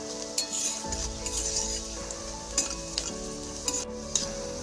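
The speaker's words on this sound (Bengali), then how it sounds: "পেঁয়াজটাকে ভালোভাবে আমি ভেজে নিচ্ছি।" Chopped onion sizzles steadily in a pan for a Bengali pumpkin curry with drumsticks, with occasional scrapes and clinks of a stirring spoon against the metal, close and continuous with no talking.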